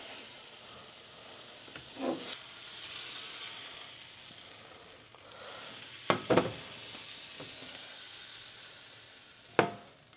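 Butter sizzling in a hot frying pan while an omelette is made, a steady close crackling hiss with a few sharp pops and light scrapes of a utensil against the pan.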